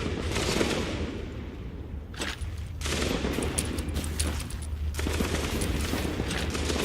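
Dense, continuous rifle gunfire in the video game The Division, with rapid overlapping shots and booms filling the whole stretch in a loud, chaotic battle soundscape.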